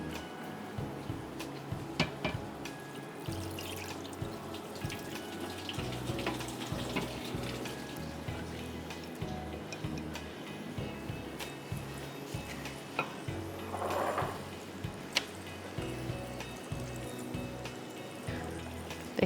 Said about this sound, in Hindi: चावल में से पानी निकाल दें जो कि हमने सोक किया था